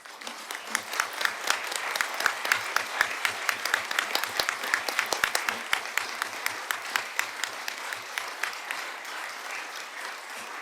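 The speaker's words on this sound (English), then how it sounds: "give them a round of applause for putting themselves forward" Council chamber audience at a city council annual meeting applauds the Lord Mayor's champions with steady, moderately distant clapping that holds evenly for about ten seconds, with no voices over it.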